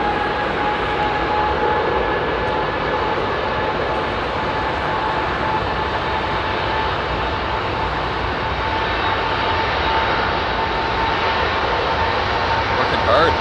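Airliner engines roar at full power during a departure from Heathrow, a steady loud broadband rumble with a whine that stays constant throughout. Spectators talk over the engine noise.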